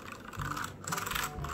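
Rapid clicky typing on a new budget 60% mechanical keyboard, two close bursts of keystrokes with a short pause between, alone with no talk.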